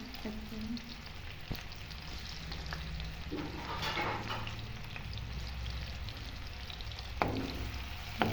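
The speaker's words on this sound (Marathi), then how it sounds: "आता आपण कांदा टाकूया. एक कांदा टाकला," Chopped onion frying in a pan for a Marathi matki amti, a steady close sizzle with soft crackles and occasional stirring clicks throughout.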